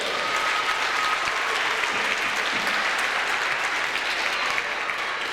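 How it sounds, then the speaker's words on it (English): A crowd at a youth basketball league championship applauds the runner-up team, a loud, steady roar of many clapping hands that holds evenly from start to finish. "let's give another round of applause for the league runner-up, the Warriors."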